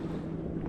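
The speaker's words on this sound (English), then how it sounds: "It's pretty windy today" Wind buffets a small fishing boat on a lake in a brief, loud, steady low rumble of gusts hitting the microphone and hull.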